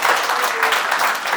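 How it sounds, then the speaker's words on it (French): Short spell of audience clapping at a charity trophy ceremony for a radio station, steady and fairly close for a moment. "On peut applaudir pour lui."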